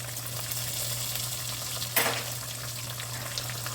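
Lamb pieces for stew sear in a hot pan with a steady, close sizzle and a low hum beneath, punctuated by a brief louder crackle of stirring midway.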